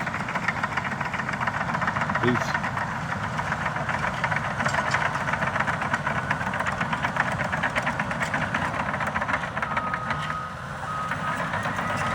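An earth-moving machine pushes dirt to build a construction pad near a lake, its engine droning steadily and loudly throughout, with faint intermittent beeping.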